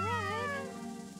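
A kitten or small cat gives one clear, drawn-out meow that rises and then falls, close and loud. No other sound is heard and no one speaks.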